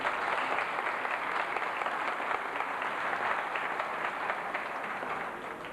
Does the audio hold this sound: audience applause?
yes